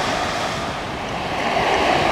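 Ocean surf washing in at the water's edge at Long Beach, a steady loud hiss and roll of waves with some wind buffeting the microphone.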